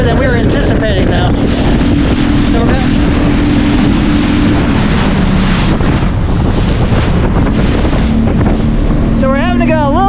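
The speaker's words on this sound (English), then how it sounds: "These waves are a little bit bigger than we were anticipating though." A boat pushes through big waves on the way to Fort DeSoto, with loud, constant wind buffeting the microphone and the roar of surf and hull across the whole stretch.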